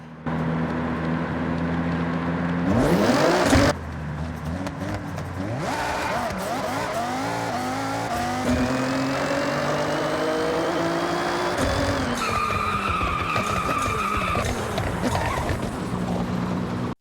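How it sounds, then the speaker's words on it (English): A Nissan GT-R and a Mazda Miata in a 20 km/h rolling race on a quarter-mile track, with loud engines revving and accelerating hard, pitch rising through the gears, sustained and close throughout. "the 20-kilometer-per-hour rolling race on the quarter-mile track has begun."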